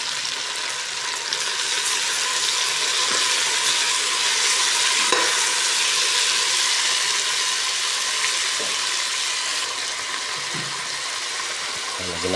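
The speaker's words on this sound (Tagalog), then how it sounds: "ilagay ko na yung kamatis" Chopped tomatoes in a hot pan give a loud, steady sizzle that fills the whole stretch, while a utensil stirs and scrapes against the metal in occasional soft knocks nearby.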